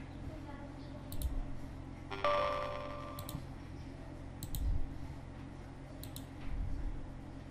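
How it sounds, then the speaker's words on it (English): Computer mouse clicks on a Windows PC: a few faint, sharp clicks spaced a second or two apart in a quiet room, with a brief tonal blip partway through. "just double click it to run the installer."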